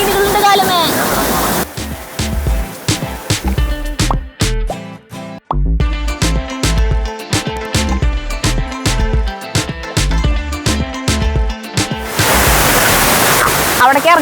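The waterfall at Cheppara rock garden pours as a loud, steady rush of water at the start and end, with a stretch of rhythmic music in between.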